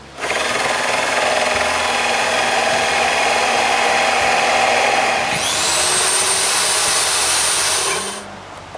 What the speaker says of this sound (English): When the center of the hole saw goes through, I switch sides to finish the hole.